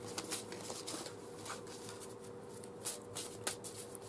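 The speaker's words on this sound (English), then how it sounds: "it shuffles really well" Soft, papery riffling and light slaps of tarot cards being shuffled, close by, with a few sharper flicks near the end and no talking.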